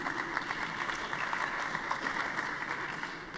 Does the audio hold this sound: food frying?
no